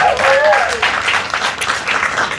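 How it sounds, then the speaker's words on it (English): A crowd applauds at a restaurant ribbon cutting on East Warren in Detroit, producing a dense, sustained wash of clapping that follows a speaker's voice at the start. "Let's give that a round of applause as well."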